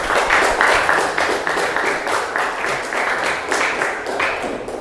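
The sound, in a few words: applause from the class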